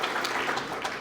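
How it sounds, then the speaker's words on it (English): An audience claps for Frank Malloy at the 2023 Forsyth Monroe County Sports Hall of Fame ceremony, a steady dense patter of many hands heard briefly from within the room. "I was going to give Frank Malloy a round of applause"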